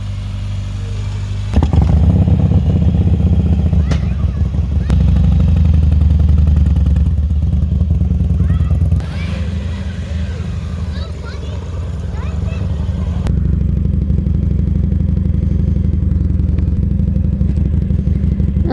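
Motorcycle riding on a road with a steady low engine drone and some clatter, swelling as the rider pulls away; close and continuous throughout, with no talk.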